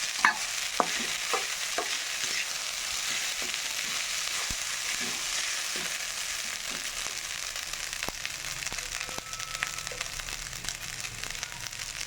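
Rice with turmeric powder fries in a pan, a steady close sizzle broken by scraping stirs and light crackles, with no talk over it.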